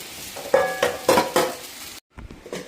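Soaked sabudana (tapioca pearls) tipped into a pan and stirred, a few scraping, sizzling strokes in a clear rhythm, close and moderate, then a brief cut and more stirring.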